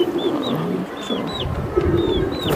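Pigeons at a Bangladeshi pigeon market, including silver Giribaz birds, with soft cooing and short chirpy calls repeating over a steady background murmur of people and activity.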